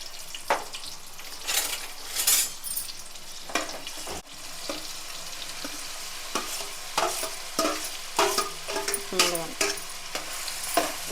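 Thinly chopped onions frying in hot double-filtered oil, a continuous close sizzle with frequent scraping and stirring clatter from a utensil against the pan.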